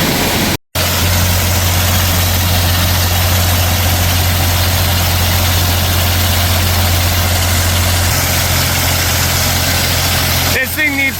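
A farm tractor in need of maintenance idles close by, a loud, steady low rumble that holds an even drone for about eleven seconds, with a brief dropout near the start and a slight change in tone toward the end.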